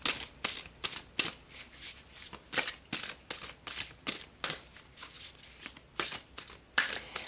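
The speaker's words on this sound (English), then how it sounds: "So let's pull some cards and see what the angels are doing" Tarot cards are shuffled by hand up close, a series of crisp riffling bursts in an irregular rhythm, fairly quiet and without voices.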